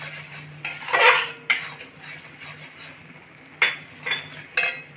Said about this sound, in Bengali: 8টা কাঁচা লঙ্কা দিলাম। আবার একটু 2 থেকে 3 মিনিটের মতন নেড়ে নেব